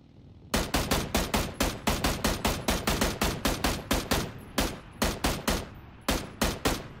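Tommy gun fire in PUBG, loud continuous bursts of rapid automatic shots with short gaps between volleys, close and dominant with nothing else over it.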